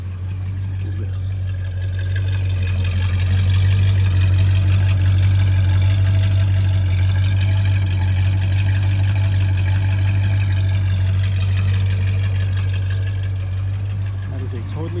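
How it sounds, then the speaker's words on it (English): A 1969 Dodge Charger R/T with its bone-stock exhaust, stock mufflers and tailpipes idles in a deep, steady, even rumble that holds for the whole stretch at close range. "That is a totally bone stock exhaust system. Stock mufflers, tailpipes, everything."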